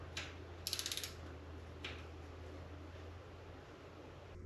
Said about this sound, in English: my nifty little gear wrench, quarter inch drive, it's perfect